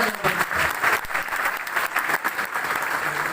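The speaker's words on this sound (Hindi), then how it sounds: "एक बार हमारी तरफ से जोरदार तालियां उनको बहुत बहुत धन्यवाद।" A crowd at a business training seminar applauds loudly, with lively, uneven clapping that swells and dips through a few seconds.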